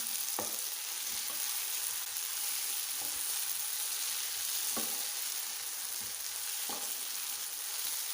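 Boiled potatoes and masala fry gently in a pan for aloo bhindi masala, a soft continuous sizzle broken by occasional sharp taps and scrapes of the spoon, fairly quiet throughout.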